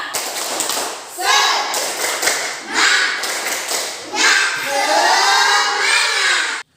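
A classroom of pupils does a rhythmic spirit clap, bursts of claps and taps coming in repeated groups, with children's voices chanting and shouting along.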